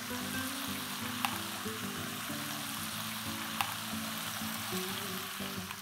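Vegetables and caldine paste sauté steadily in a pan over a low flame for a Goan vegetable caldine curry, a continuous soft sizzle with a couple of sharp utensil ticks, alone with no talk.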